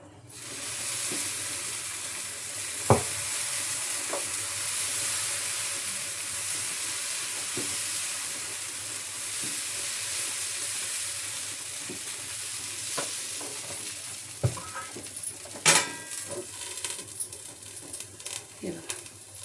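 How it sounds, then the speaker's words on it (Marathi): Dosa batter sizzles on a hot tawa with a steady frying hiss that lasts throughout. A few sharp clicks and utensil knocks stand out near the end. "टाकते तव्यावर आणि तो डोसा दाखवते."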